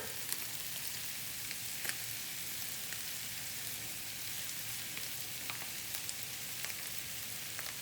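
Already-cooked meat seasoned with salt and pepper sizzles and fries steadily in a hot pan, a constant crackling hiss with scattered small pops, no voices.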